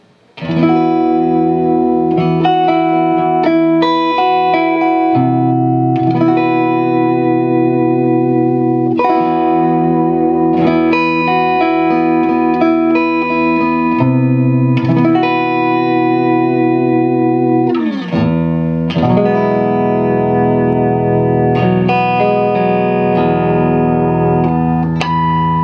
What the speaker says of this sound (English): if we go over to just the neck pickup split, it sounds like this